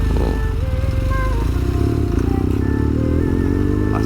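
A BMW R 1200 GS K51 adventure touring motorcycle's boxer engine rumbles steadily and close while making a slow U-turn, with a rider's voice talking over the engine.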